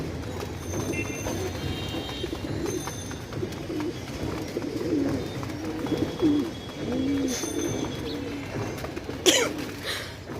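Pet pigeons coo softly and repeatedly while being fed, the low throaty calls rising over a busy background of rustling, shuffling and a sharp clatter near the end.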